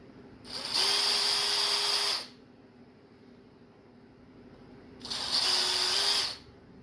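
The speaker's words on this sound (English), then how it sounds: "I'm gonna use this bit. The 1/4 inch." Power drill driving a 1/4 inch bit while making a custom fishing spinner: two loud, close whirring bursts of about a second and a half each, separated by a quiet pause.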